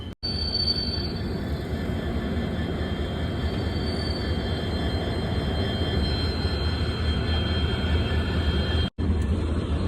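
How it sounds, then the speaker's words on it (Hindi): A Gorakhpur–Lokmanya Tilak Terminus train rumbles steadily past at close range arriving at Jaunpur Junction, a continuous loud roar of wheels on rails with faint metallic squeals. "इस तरफ गोरखपुर लोकमान्य तिलक टर्मिनल का अराइवल जौनपुर जंक्शन पर।"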